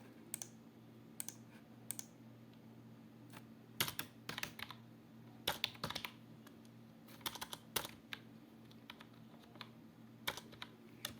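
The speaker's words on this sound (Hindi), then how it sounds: "डेट टाइप कर दो।" Typing on a computer keyboard: irregular clusters of sharp key clicks, close and fairly quiet, over a low steady hum, with short pauses between bursts.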